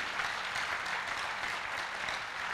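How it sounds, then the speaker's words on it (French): Church congregation clapping in worship, a dense continuous burst of applause filling the room at steady loudness throughout. "Acclame bien le Seigneur si tu entends ces choses"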